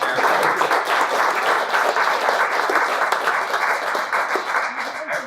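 An audience at a Revit user group meeting gives a big round of applause, a dense, continuous wash of clapping that holds steady for about five seconds before starting to thin out.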